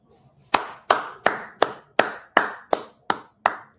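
A single person claps nine times in a slow, even rhythm. The claps are sharp and close, with nothing else heard between them.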